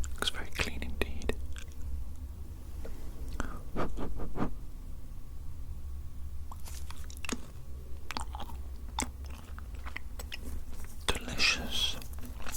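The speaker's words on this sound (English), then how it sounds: "it's been quite a long time since I've had chewing gum" Chewing gum worked in the mouth close up in a quiet whispery setting, soft wet smacks and bites repeating irregularly, with faint whispering alongside.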